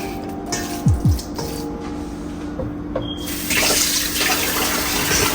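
Water runs from a kitchen tap into a sink while a Jamaican-style curry chicken pasta is being made, a steady hiss that swells louder in the last seconds after a few soft clatters.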